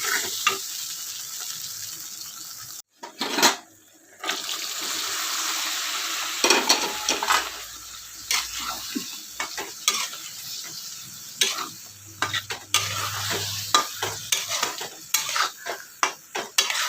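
Drumstick pods for a drumstick curry sizzle and fry in a pan while a utensil stirs and scrapes against the metal in repeated clatters, steady sizzling filling the background throughout, with no voices.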